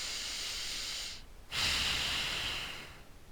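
Steady breathing held during a yoga pose with chin tucked: a long, airy exhale hiss, a short pause, then a stronger breath continuing to the end, close and alone with no talk.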